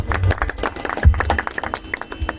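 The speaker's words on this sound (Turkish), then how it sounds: "alkışlarınızla mikrofonu Aksaray Belediye Başkanımız Sayın Doktor Evren Dinçer'e bırakıyorum" An audience at a shopping mall opening in Aksaray claps steadily, close and moderately loud, in a brisk round of applause.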